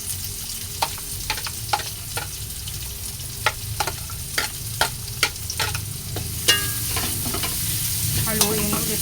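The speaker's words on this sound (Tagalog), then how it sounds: "Isunod na natin ang sibuyas." Onion frying in a pan for menudillo, a steady sizzle with repeated sharp scrapes and clinks of stirring, close and fairly quiet, with no talking.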